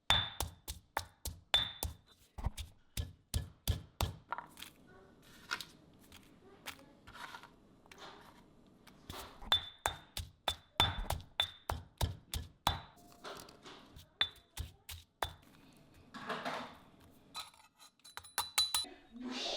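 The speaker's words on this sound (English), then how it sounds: "you just need to pound the paste" A pestle pounds northern Thai curry paste in a mortar, sharp rapid knocks in fast bursts with short pauses between, close and clear.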